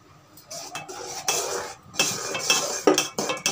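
Cooking mango pulp being stirred in a pan for aamras, the spoon scraping and clinking against the metal in repeated close strokes that grow louder and busier toward the end.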